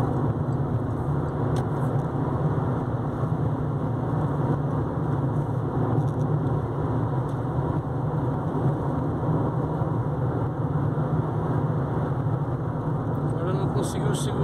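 A car accelerating to overtake on a mountain road in the Serra da Mantiqueira between Minas Gerais and São Paulo, heard as a steady, continuous road and engine rumble throughout, with talk over it.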